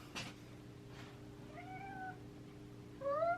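A small stray kitten meows two or three times, thin rising cries spaced apart indoors, near and fairly clear against a quiet hum, with a couple of soft knocks early on.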